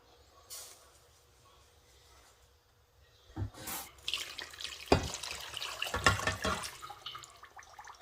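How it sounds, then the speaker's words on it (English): Hot water runs from a kitchen tap while pineapple wine is being made, starting as faint splashes and then gushing louder in bursts as the stream hits a container, with a few clunks between. "We just use as hot as we can get from the tap."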